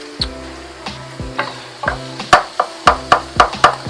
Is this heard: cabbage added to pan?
yes